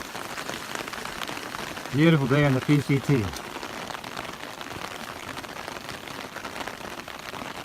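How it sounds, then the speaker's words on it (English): Steady rain patters on a Pacific Crest Trail hiking path in the Sierra, a continuous hiss of drops with a person briefly speaking over it. "It's now turned into a steady rain."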